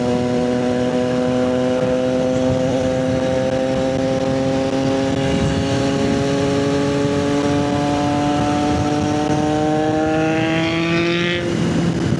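A 765 motorcycle engine revs strongly, its harmonic tone rising steadily over several seconds to a loud peak before dropping off sharply near the end, close and dominant.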